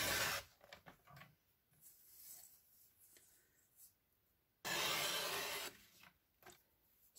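Paper being cut into two strips for a pop-up theatre card, with quiet blade scrapes and rubbing, then two bursts of louder rasping slicing close up.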